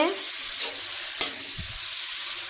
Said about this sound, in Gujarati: આપણે આ રીતે હલાવતા રહેવાનું ગાજરને।